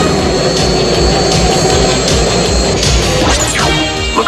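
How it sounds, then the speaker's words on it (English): A cartoon seaplane's engine roars loudly and close in a continuous droning rush, with rhythmic pulsing and a few sharp crash-like hits layered into the action soundtrack. "I got to stop that seaplane."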